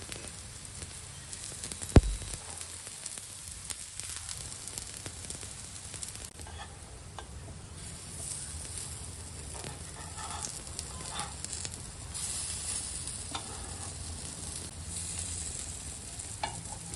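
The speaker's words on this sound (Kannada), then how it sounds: "ಇವಾಗ ಹೆಂಗೆ ನಾವು ಟಿಕ್ಕಿನ ಶಾಲೋ ಫ್ರೈ ಮಾಡೋದಕ್ಕೆ ಇಟ್ಟಿದೀವಲ್ವಾ" Palak paneer tikki shallow frying in a pan, a steady, quiet sizzle with faint crackles and one sharp tap early on, no talking.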